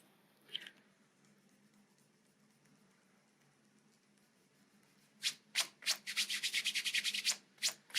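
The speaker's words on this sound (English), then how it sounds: "So I'm going to show you how this marks and erases on my leg." Eraser tip rubbing pen marks off polyester pants, a faint tap near the start, then a quiet pause, then a burst of quick, dry scrubbing strokes close by, with no talk.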